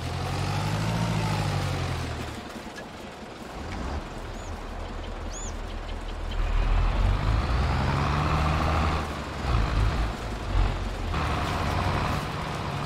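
A harvester runs in the video game Farming Simulator 22, a steady low engine drone with rising and falling pitch and some louder surges, heard alone throughout.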